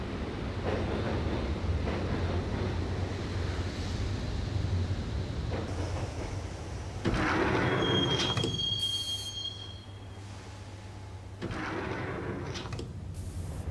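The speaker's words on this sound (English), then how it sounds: "the train doors had already shut behind me, and I was in for the ride" A subway train in the Max Payne video game rumbles steadily along the tracks, with metallic wheel squeals and a high screech partway through, loud and continuous with no talking.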